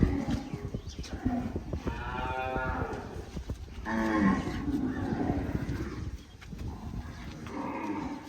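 Several cows moo in long, low, drawn-out calls, one after another, at a cow shelter, with farm noise around them and no talking.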